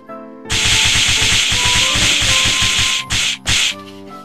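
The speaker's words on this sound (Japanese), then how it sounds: "ブロック肉に味が染みやすくなるようにフォークで穴を開けていきます" A fork stabbing repeatedly into a block of pork belly for chashu, a fast, steady run of close, loud rhythmic thuds and scrapes with two short bursts near the end and no talk.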